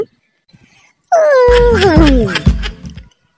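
A cartoon dog lets out a drawn-out whimpering whine that slides downward, with yelping, voice-like cries mixed in, loud and close, in an Assamese cartoon comedy.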